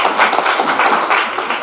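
An audience claps steadily through the whole stretch, a dense, sustained round of applause at a motivational business seminar, loud and close with no pauses and no talking over it.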